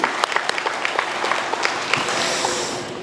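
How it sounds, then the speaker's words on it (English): Audience applause at a leadership graduation ceremony for the Leadership Akron team, dense sustained clapping from a crowd with sharp individual claps standing out, fairly loud and filling the room for several seconds. "You deserve a round of applause."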